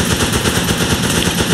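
Sustained automatic gunfire in the Running with Rifles video game, set in a Pacific WWII Guadalcanal scenario, a dense, continuous rattle of rapid shots filling the whole moment without speech.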